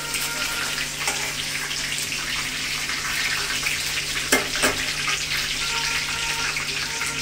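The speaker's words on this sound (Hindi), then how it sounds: "ग्रीन चिलीज़ को थोड़ा सा अच्छे से रोस्ट करेंगे" Green chilies roast in a hot pan with a steady, close sizzle that hardly changes, and a couple of brief scrapes near the end.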